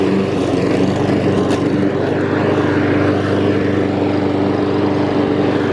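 A new Honda HRX 217 lawn mower with a 200cc engine running steadily: a loud, constant engine drone with a low rumble, close by and unbroken, with no talking.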